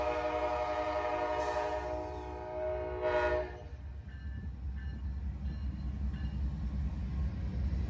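Amtrak 49 passenger train pulled by heritage-painted locomotives passing, its horn sounding a sustained chord for a few seconds before fading, followed by the steady rumble and clatter of passing cars.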